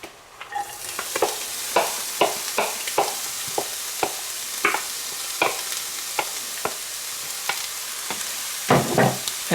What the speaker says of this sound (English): I'm adding our oil, vegetable oil, and then we'll just stir-fry our veggies.